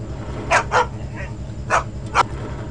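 Short yips from a dog in the Leisure Suit Larry video game, four or five quick high barks spaced irregularly over a steady low synthesized music loop.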